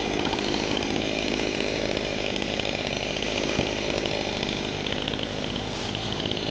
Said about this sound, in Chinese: 这是电锯划的